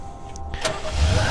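A car engine cranks and starts in the Hotline Miami video game, a brief mechanical rise that swells into a steady low engine rumble, loud and close with no talk over it.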